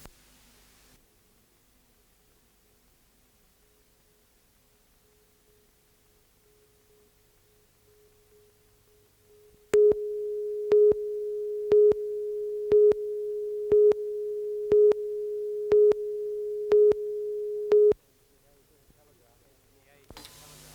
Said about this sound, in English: the dots and dashes of Morse code were again winging along the wires today